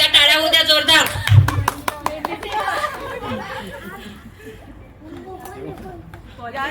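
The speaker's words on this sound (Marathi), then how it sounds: "एकदा टाळ्या होऊ द्या जोरदार" A crowd at a mehendi ceremony bursts into loud applause that fades into scattered clapping, with chatter and a voice over a microphone running beneath.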